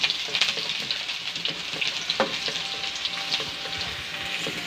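Garlic and onion sauté in hot oil, a loud, close, continuous sizzle with scattered pops and crackles as the pan is stirred, no one talking over it.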